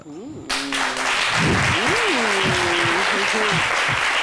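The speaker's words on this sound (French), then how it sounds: "les applaudissements sont un peu trop faibles pour ce qu'on vient de voir" Audience applause after a speech about Christmas and family, a steady, fairly dense clapping that starts abruptly and continues beneath a voice talking over it.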